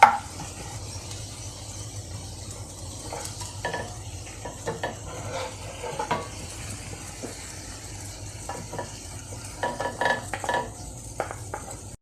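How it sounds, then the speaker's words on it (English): Fried okra (ladyfingers) is scooped from a pan of hot oil into a strainer with clinks and scrapes of a metal utensil, over a low oily sizzle, in a close, quiet kitchen with no talk. "Now I will off the gas and I will remove it in a strainer so that the oil will come out."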